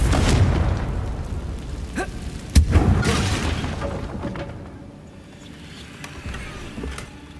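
A Confringo fire spell goes off in Hogwarts Legacy as a deep, rumbling blast with a sharp crack partway through, then a long roll that fades slowly under game ambience.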